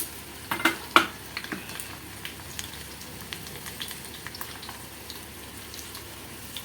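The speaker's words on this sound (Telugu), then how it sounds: "ఇప్పుడు ఇది మనం చక్కగా ఇలా వేగనిద్దాము" Mustard seeds and shallots crackle and pop in hot oil, with a few sharp bursts early on, then quieter scattered crackles over a faint sizzle.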